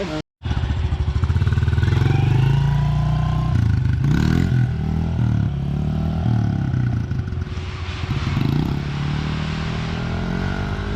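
A small motorbike engine runs steadily and close by for the whole stretch, loud with a rough, buzzing idle and occasional light revs, with no talk over it.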